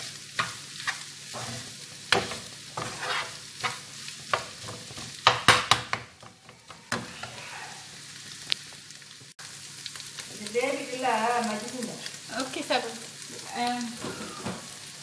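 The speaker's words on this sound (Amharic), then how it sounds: "ግማሽ የሻይ ማንኪያ ኑስ ገብሻ ቱም እንጨምራለን፣ እናቅላለዋለን።" Minced garlic, half a teaspoon, frying in a pan with repeated stirring strokes and scraping, a steady sizzle underneath and a brighter burst of frying partway through; no talking.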